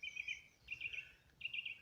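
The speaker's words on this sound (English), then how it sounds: "surrounded by birdsong and a variety of different shrubs" Bright, clear bird song rings out in three phrases of repeated chirps against a hushed backdrop in quiet shrubland, with short gaps between bursts and no voices.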